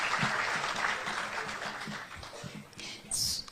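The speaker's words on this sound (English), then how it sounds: "Let's give another round of applause to our panelists" Audience applause for panelists at a small-business event at KICC, moderately loud and fading slightly, with some speech mixed in underneath and a brief sharp sound near the end.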